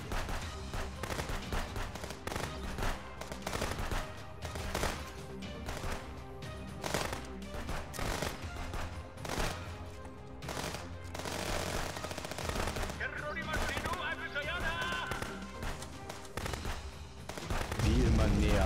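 Rapid, dense gunfire in the video game Contraband Police, a long stretch of sharp repeated shots and bursts layered over game sounds, loud and continuous throughout with a heavier boom near the end.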